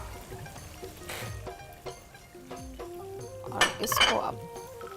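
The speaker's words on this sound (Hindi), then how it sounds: "अब ये मैं गोश्त को इस गरम तेल में मैं डाल रही हूँ" Meat dropped into hot oil with whole garam masala in a pot, with metal clinks of a spoon against the pot and short, loud bursts of sizzling, close up.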